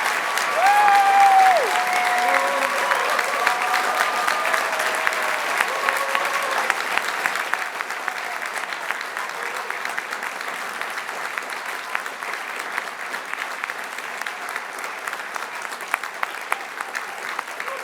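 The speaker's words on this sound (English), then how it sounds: "let's get started with a really big round of applause" A large graduation ceremony audience of graduates, families and Open University staff in Milton Keynes breaks into a big, sustained round of applause, dense clapping that holds steady at full strength throughout with no talk over it.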